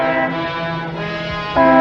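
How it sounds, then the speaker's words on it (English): A car horn blares in a long sustained honk, fading slightly, then a second loud blast starts near the end. "What are you honking the horn for?"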